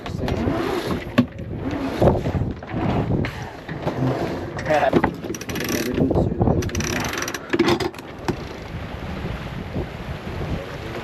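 Mainsail being furled on a 32ft sailboat: continuous ratcheting, clicking winch and line noise with scattered mechanical clunks over steady wind rumble and water, fairly close and busy throughout.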